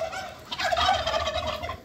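Turkeys gobble at home in a farmyard with one quick, loud, warbling burst of rapid throaty gobbling that lasts under two seconds.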